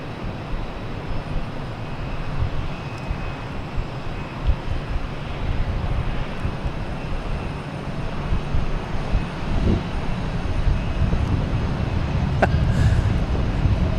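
A LATAM jet airliner lining up on runway 4 right at Boston Logan gives off a continuous far-off engine rumble, steady and slowly swelling.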